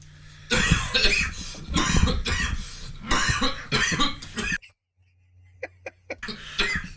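A person coughs in a series of harsh, chesty bursts, a cluster of heavy coughs, a short silence, then a few lighter, clipped coughs, close and loud.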